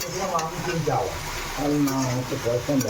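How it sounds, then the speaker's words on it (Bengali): Potatoes fry in oil with five-spice seeds, dried chili and bay leaf, a close crackling sizzle with stirring, partly under a person talking. "প্রথমে পাঁচফোড়ন শুকনো লঙ্কা তেজপাতা তারপর আলুটা একটু ভেজে নিয়ে তারপর সব সবজিগুলো দিয়ে দিতে হবে"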